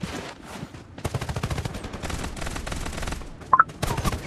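Rapid automatic gunfire in the battle game Farlight 84, loud bursts running almost continuously with a brief pause and a couple of sharp higher blips near the end.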